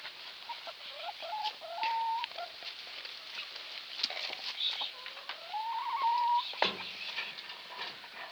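Chickens cluck and call nearby in a village farmyard, a string of short rising squawks and drawn-out tonal notes over quiet outdoor background, with no talking.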